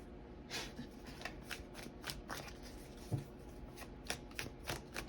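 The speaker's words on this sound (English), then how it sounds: "Sorry, I gotta move these cards." Tarot and oracle cards shuffled and shifted around on a table, a run of soft riffling swipes and flicks repeating irregularly, close and quiet with no voices.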